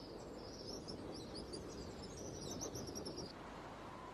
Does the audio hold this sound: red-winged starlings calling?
yes